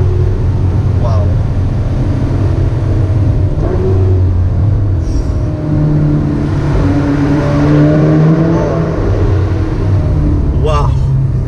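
A 2018 Ferrari Portofino convertible drives and accelerates with its top down, a steady engine rumble rising and falling under wind noise, with people talking over it.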